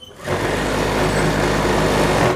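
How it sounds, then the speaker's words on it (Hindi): A sewing machine runs in one steady, loud, fast whirring burst while stitching a churidar pyjama seam, starting and stopping abruptly. "इस तरह से इसे मिलाते हुए अपने को दूसरी सिलाई लगानी है"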